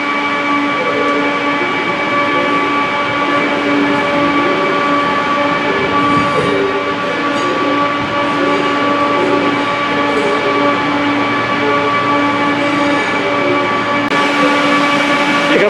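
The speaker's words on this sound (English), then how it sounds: "There goes 323214 with a service to Warsaw." West Midlands Railway class 323 electric train, unit 323214, passing at a Birmingham station with a loud continuous rumble and steady humming tones throughout.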